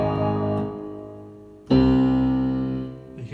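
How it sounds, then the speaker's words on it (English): Piano played without the sustain pedal, one chord ringing and fading, then a second loud chord struck, with gaps left between the notes. "the piano pedal, so it doesn't sound like this."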